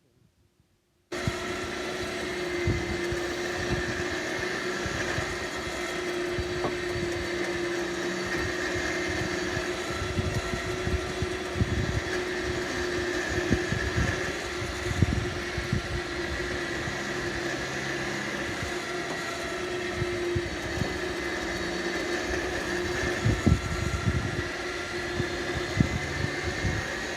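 A winch hauls a 10B boat up onto its trailer, giving a steady, close motor whine and hum that runs unbroken for almost half a minute with faint knocks and clatter underneath, no voices.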